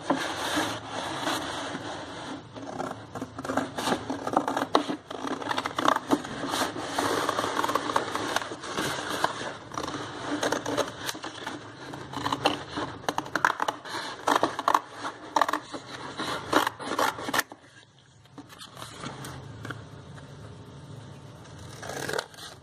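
Scissors snip steadily around a freehand paper circle, a dense run of close crisp cuts and paper rustle that tapers off near the end.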